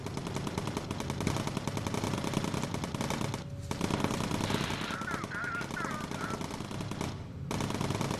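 A bomber's machine gun in the game Bomber Crew rattles in long, rapid bursts, loud and continuous, broken by two short gaps, with faint voices mixed in.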